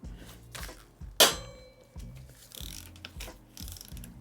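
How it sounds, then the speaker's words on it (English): A long torque wrench loosening the front wheel axle on an e-moto, giving a series of close, dry ratcheting clicks in uneven bursts, with no talking. "I'm going to use the torque wrench for this just because it's a longer wrench with some more leverage."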